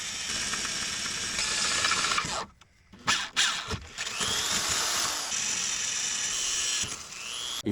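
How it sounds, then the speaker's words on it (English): A power drill bores bolt holes through a steel transmission skid plate for a Jeep YJ: a loud, continuous, grinding whine of bit biting into metal, briefly easing off midway before resuming at full strength. "transfer the holes and get those drilled, get some bolts in it"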